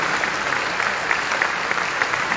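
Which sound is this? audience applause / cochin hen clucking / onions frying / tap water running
audience applause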